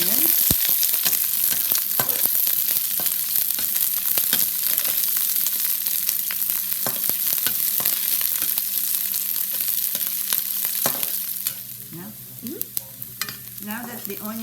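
Onions fry and sizzle in a pan for vegetable lumpia, a steady loud crackle with scraping stirs throughout, easing slightly near the end.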